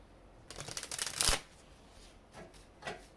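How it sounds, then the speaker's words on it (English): Tarot cards being shuffled by hand, a fast riffling burst that builds to a sharp snap, followed by a few softer card slides; close and fairly quiet, with no talking. "after this last shuffle, I'm going to clarify this Hierophant"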